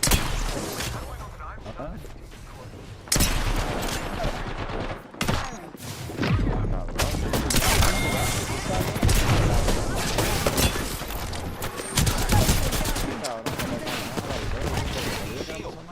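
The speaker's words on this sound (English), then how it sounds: "I am taking fire, friends." Dense, sustained gunfire from an Apex Legends battle royale match, with rapid automatic bursts and heavy impacts filling the whole stretch, loud and close, a brief lull near the start before the shooting resumes, with a voice talking underneath.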